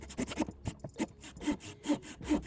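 A cheap Tolsen hand pruning saw rasps back and forth through a tree branch in short, uneven strokes, about eight close, fairly quiet scrapes with brief pauses between them.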